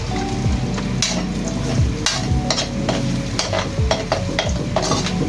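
A spoon scrapes and stirs chicken pochero in a frying pan amid a continuous sizzle, the stirring strokes and metallic clinks recurring every second or so, close and loud, with no talking.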